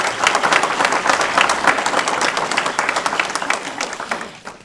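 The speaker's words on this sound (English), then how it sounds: "Please give Nurse Lentz a round of applause." An audience at a school board of education meeting applauds a nurse being honored, producing sustained, loud, dense clapping that holds steady throughout before tapering slightly at the very end.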